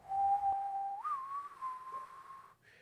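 A person whistles a steady, sustained tone that bends upward briefly and then holds, imitating a whistle melody from a song, alone and fairly close.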